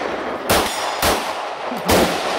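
Three sharp, loud reports from an Astra Constable pistol, spaced roughly half a second to a second apart, each a sudden broadband crack with a short ringing tail, fired outdoors with no talking.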